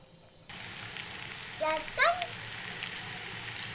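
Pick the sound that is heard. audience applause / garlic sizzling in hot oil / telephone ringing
garlic sizzling in hot oil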